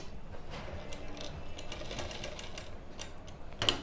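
Sewing machine stitching a kurti, a quiet, rapid mechanical clatter running steadily, with a sharper click near the end.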